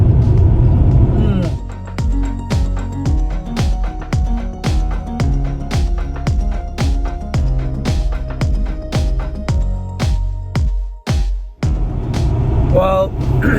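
A car driving along a road in the Yarra Valley, Victoria, Australia, with a steady low engine and road rumble under a string of regular tonal pulses, fairly close and loud.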